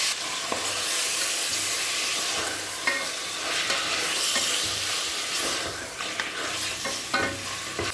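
Half a kilo of mutton with turmeric and salt sautés and fries in a pan for mutton kuzhambu, giving a loud, continuous sizzle with stirring scrapes throughout.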